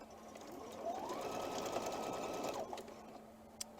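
A sewing machine stitches the seams of a scrappy nine-patch quilt block, running steadily and close for about two seconds, then a brief pause and a small click.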